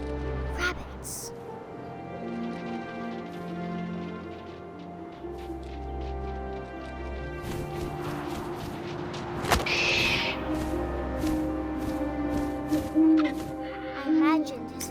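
In the video game What Remains of Edith Finch, an owl hoots amid a layered game soundscape of wind, low rumbles and music, with a narrator speaking throughout and a brief sharp burst near the middle.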